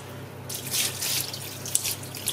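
Hot melted duck fat poured over duck legs in a pot for confit, a brief splashing liquid pour that starts abruptly, runs for about a second and a half, then trails into a few drips and spatters.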